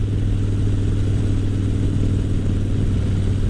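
Motorcycle at highway speed around 55 miles an hour, heard from a helmet setup as a steady, loud low engine drone with continuous wind roar throughout, no pauses.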